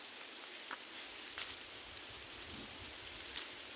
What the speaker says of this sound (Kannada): ಪರವಾಗಿಲ್ಲ, ಮಳೆಗೆ ನೆನ್ಕೊಂಡು ಮನೆಗೆ ಹೋಗ್ತೀನಿ